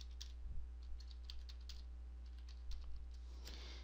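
An email address is typed on a computer keyboard in quick irregular bursts of soft key clicks, fairly faint over a steady low electrical hum, with no one speaking.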